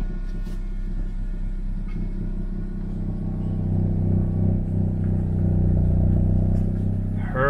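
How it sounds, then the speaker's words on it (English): A manual-transmission car rolling off and slowly picking up speed, heard from inside as a low rumble that grows louder and fuller toward the end. "let the car start to pick up speed"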